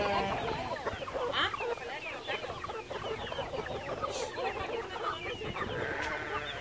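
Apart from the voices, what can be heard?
chickens clucking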